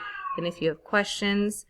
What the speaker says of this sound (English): if you can hear my cat meowing in the background